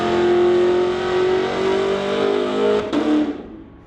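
A Corvette and a Pontiac launch side by side in a street-legal drag race down the strip. Their engines roar loudly with rising revs, then drop away sharply as the cars pull off into the distance.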